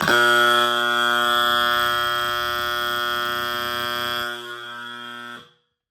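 A loud, harsh electric AC alarm horn blares continuously, buzzing steadily for several seconds before abruptly cutting off, with no talking.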